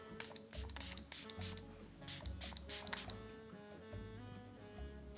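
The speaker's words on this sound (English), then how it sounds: "I'm just gonna spray it to see how's the spritzer" A few quick hissing spritzes from a fine-mist facial spray bottle, soft and close, in short bursts with brief pauses between them.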